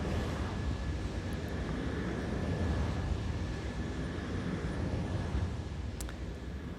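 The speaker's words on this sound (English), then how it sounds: "that's the sound of a wind turbine very close." A wind turbine heard from very close, a steady broadband roar with a low rumble and a faint constant tone running throughout, loud and alone.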